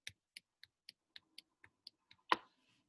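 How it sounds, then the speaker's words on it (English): Quiet finger snaps repeated about ten times at an even pace, each a small dry click, close but soft, ending with one slightly louder snap; no talking. "What if we snapped our fingers?"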